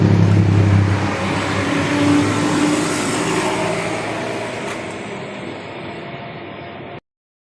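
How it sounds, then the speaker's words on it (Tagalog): A Samsung two-door refrigerator's evaporator fan runs with a steady, close whooshing hum over a low drone. It fades slightly and then cuts off abruptly near the end, with no talking. "Umalagas na siya. Ibig sabihin umaandar yung kanyang evaporator fan."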